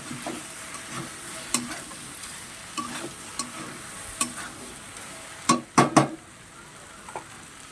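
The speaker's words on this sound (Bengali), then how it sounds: "তার আগে আমি সবজিটা ভালো করে নাড়াচাড়া দিয়ে নেব।" Vegetables frying in a pan before Malabar spinach leaves are added, a soft steady sizzle broken by scattered scrapes and clacks of a stirring utensil, with a quick cluster of louder knocks near the end.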